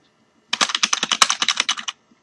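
Keys tapped in a quick, even run on an HP Pavilion 6635 laptop keyboard, about fifteen crisp clicks close up over roughly a second and a half, with quiet before and after.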